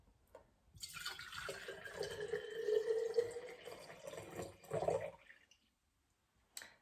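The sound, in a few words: water being poured into a big glass jar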